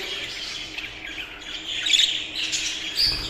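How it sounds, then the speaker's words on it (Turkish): Jumbo budgerigars squawk and chirp in a busy, continuous chatter close by, with sharper calls rising above the flock. "Çok güzel kuşlarımız var."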